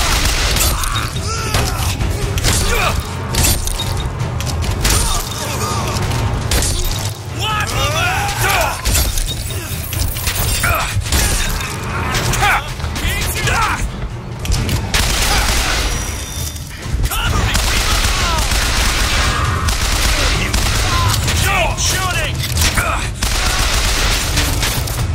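BioShock Infinite combat with dense, rapid gunfire: bursts of machine-gun fire, shattering impacts and booms come in loud clusters with brief lulls, while voices shout over the battle.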